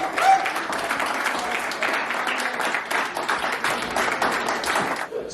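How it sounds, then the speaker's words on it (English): An audience at a panel talk gives the hosts a round of applause, a dense, steady burst of clapping lasting several seconds. "Give them a round of applause"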